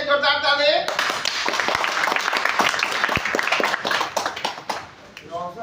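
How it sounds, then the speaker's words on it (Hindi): An audience claps loudly for a young man named Roshan in a crowded setting, with dense, steady clapping that lasts several seconds. A voice speaks briefly before the clapping starts and again as it fades. "इसी को उपलब्धि कर रोशन के लिए जोरदार ताली।"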